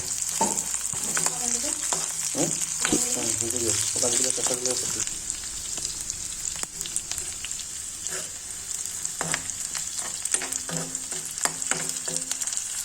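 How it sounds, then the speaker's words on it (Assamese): Oil sizzles steadily in a pan as onion pieces and whole spices fry, with a spoon clinking and stirring now and then. Some faint background music plays. "পিঁয়াজৰ টুকুৰা কেইটামান দি দিছোঁ আৰু অকণমান সময় ভাজিছোঁ"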